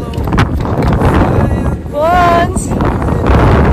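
Steady cold, rainy wind buffets the microphone throughout at Quail Creek State Park, a broad rumbling roar, with a person calling out briefly over it.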